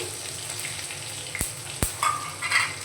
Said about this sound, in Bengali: থেতো করা আদা দিয়ে আমি একটু নাড়াচাড়া করে নিয়েছি।